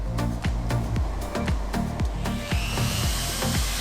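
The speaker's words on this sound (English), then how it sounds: "I'm now using a die grinder and a burr cutter, and this was to help shape the leg joints into place." A die grinder fitted with a burr cutter shapes the leg joints of a wooden rocking chair, its high whine broken by repeated dips and bites as the burr is pressed into the wood, close and continuous.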